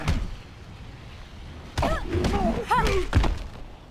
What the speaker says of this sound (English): the Undertaker with a choke slam blocked for 325